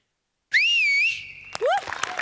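A sharp, loud whistle of applause after a stage comedy performance, with a wavering pitch, rings out after a moment of silence, followed by a short second upward whistle and noise.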